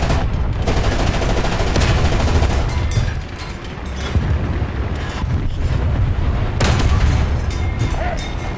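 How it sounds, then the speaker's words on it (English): War Thunder artillery strike sends loud, continuous booming explosions and crackling blasts rolling over one another, dense and close, with a brief dip before the barrage resumes. "I'm gonna launch an artillery strike on right there"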